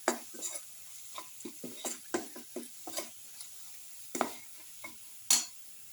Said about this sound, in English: put in a spoon of coriander powder, salt and mix